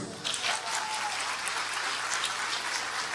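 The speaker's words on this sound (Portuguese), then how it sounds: "palmas." A church congregation claps steadily during a Sunday service, broad and sustained applause filling the room for about three seconds without pause.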